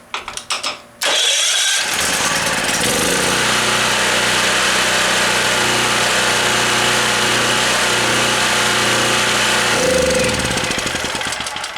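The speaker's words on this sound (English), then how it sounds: "Alright, she's running good now." A gasoline generator that sat unused for two years cranks briefly with a few chugs, then catches and runs at a loud, steady roar for about ten seconds before starting to taper off.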